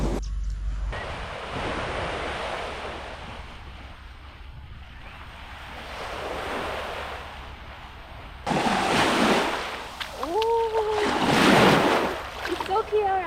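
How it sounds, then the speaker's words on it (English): Surf at Lazarus Beach on a Singapore island washes in as a steady broad roar with wind noise, swelling and easing, then grows louder and closer near the end while people talk over it. "And here we are at the Lazarus Beach."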